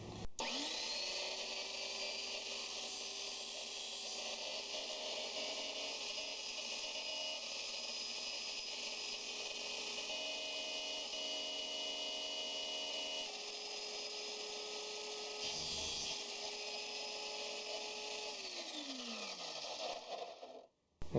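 A DIY powered cutter spins up and whines steadily while cutting a carbon arrow shaft, a faint continuous buzzing drone with a brief grinding burst before it winds down at the end.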